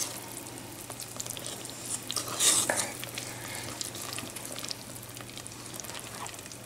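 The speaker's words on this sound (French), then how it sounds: "il va falloir bien mélanger la pâte" Liquid pizza batter made with water being mixed in a bowl, soft continuous stirring and light scraping at moderate level, with one slightly louder splash of mixing partway through.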